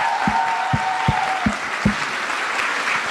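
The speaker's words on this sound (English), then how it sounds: "Can we have one final round of applause for everyone?" Sustained audience applause for performers at a cultural show, a dense broadband clatter of many hands over the whole stretch, with a few deeper thumps and a faint whistle-like tone early on.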